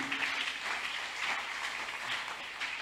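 A church audience at a camp meeting sermon applauds and cheers in acclaim of Jesus, a sustained, fairly distant wash of clapping and crowd noise that swells and dips slightly without stopping.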